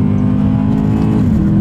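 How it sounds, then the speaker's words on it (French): A BMW M3 E92 accelerates on a race track, its engine a steady, close, loud drone with a constant low growl that holds throughout, with no talk. "Le moteur est vraiment fantastique, ça a une allonge"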